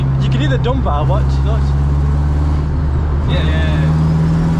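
Turbo dump valve venting on a 450bhp turbocharged Honda Civic EK, a brief hissing whoosh over a steady engine drone heard from inside the car, with people talking over it.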